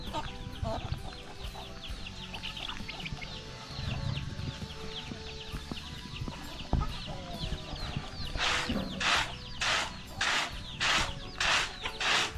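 Chickens and roosters at a Hmong village homestead cluck and squawk repeatedly, loud and close, the calls growing more insistent toward the end with no talk over them.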